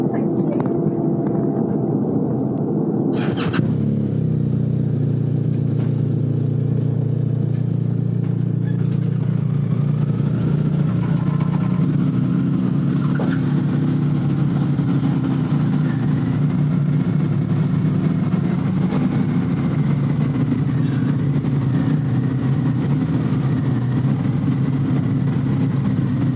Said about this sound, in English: Don't start your engines until the car in front of you starts moving